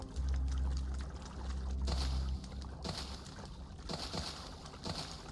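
In the video game StarRupture, a player drinks water from a plant, a loud, liquid pouring and gulping. It then breaks into a few shorter splashy bursts.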